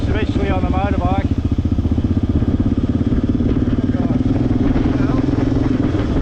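A motorbike ridden on a road near the Nepal border drones steadily with a close, pulsing engine throb throughout, while someone talks briefly over it at the start.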